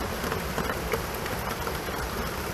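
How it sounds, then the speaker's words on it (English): Rain falls outdoors over drainage pipes, a dense, steady hiss of drops pattering on surfaces, fairly loud and continuous with no voices. "And it just started raining, and look at that."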